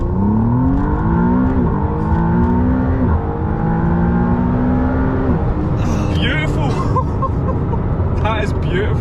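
A McLaren producing 670 brake horsepower launches hard, its engine note climbing in stepped rising sweeps as it gears up, loud and close, with a voice speaking over the noise.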